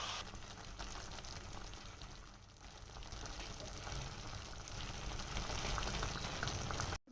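Tomato and cashew puree fries over a slow flame for an Andhra-style cauliflower curry, giving off a soft, steady sizzle and bubble that goes on throughout with no talking.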